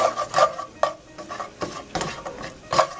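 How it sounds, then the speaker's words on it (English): Roughly two tablespoons of garlic are stirred in a pan over medium-low heat, with a utensil scraping and clinking against the metal in quick irregular strokes under a soft sizzle. "and we're going to go ahead and add some garlic. It's about 2 tablespoons. Just mix that up in there."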